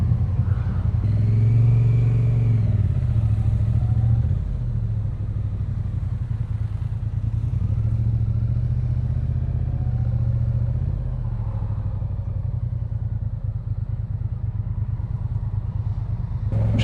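Triumph Bonneville T100 motorcycle with a 900cc engine out on a demo-day test ride, a steady low rumbling engine note with slight swells, moderately close and continuous throughout.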